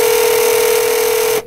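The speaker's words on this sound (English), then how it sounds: "Let me see if this phone line really works." A steady, unbroken telephone line tone sounds on a call for about a second and a half, loud and alone, then cuts off abruptly.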